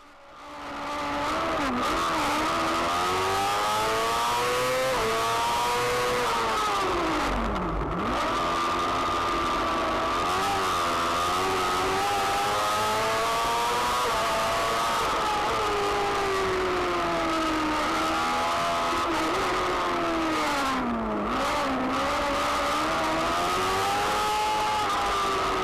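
F2 racing sidecars scream around the Anglesey circuit in Wales at a British championship round, a loud, continuous high-revving engine note rising and dipping through gear changes and corners, close to the microphone for the whole stretch.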